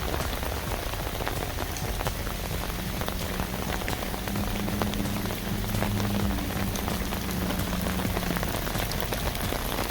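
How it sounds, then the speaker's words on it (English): Heavy rain from a record-breaking bomb cyclone storm drums steadily on surfaces outdoors, a dense, constant patter of drops with a low rumble underneath. "You can hear the rain here."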